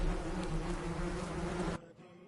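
A dense, steady buzzing of many bees swarming close by, loud and continuous, cutting off abruptly near the end.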